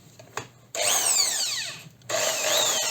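A 650-watt variable-speed power drill whirs in two bursts, its high whine sliding up and down in pitch as the speed changes.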